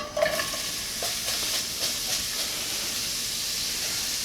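Chopped onion and garlic sizzle and hiss steadily in a hot pan, with a few stirring clatters near the start before the frying settles into an even, close hiss.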